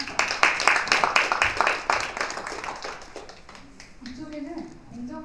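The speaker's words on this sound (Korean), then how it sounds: "수상자 선생님들께 큰 박수 한번 부탁드립니다." Audience clapping at an award ceremony for a teaching-materials contest, brisk and fairly close at first, then thinning out and fading as a voice begins speaking over the last seconds.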